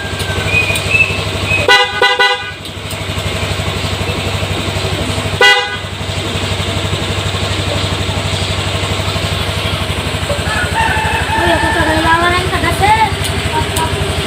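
A loud aftermarket horn on a Honda Click version 3 scooter blasts twice, a short toot and then another, close and sharp over an idling engine, with brief talk between.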